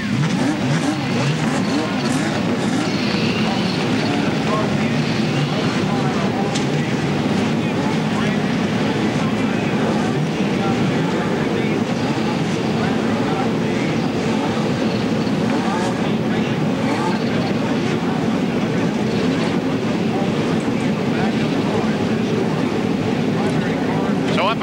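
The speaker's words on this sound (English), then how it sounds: "Gentlemen, start your engines." IndyCar race car engines firing up and revving on the grid at Road America during the 1992 Texaco/Havoline 200, a dense continuous roar from many cars with wind buffeting and crowd noise.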